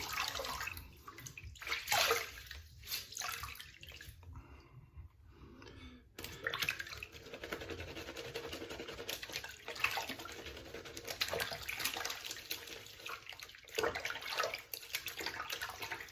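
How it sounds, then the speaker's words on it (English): Cold tap water splashes over a shaving brush during a rinse, a close, hissing stream with a brief quieter pause partway through before the running water returns. "do a preliminary rinse of my brush here"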